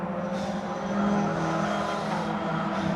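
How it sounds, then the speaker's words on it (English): Race cars from a Ginetta Junior round at Silverstone roar past at speed, a steady, loud engine drone with a low rumble holding for the full stretch, no voices over it. "Those cars are still coming around at a fair tilt, aren't they?"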